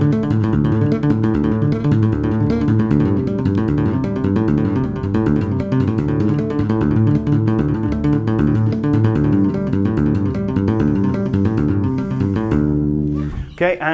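A bass guitar plays a piano-style two-handed tapping line, with dense repeating tapped notes and chords in a steady, busy rhythm that is loud and close, ending abruptly.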